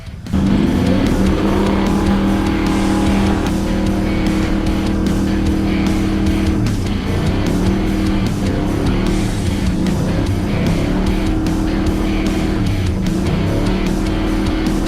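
A loud, continuous engine drone from a 4WD Toyota Land Cruiser driving, rumbling low and steady throughout with rough mechanical texture and no break.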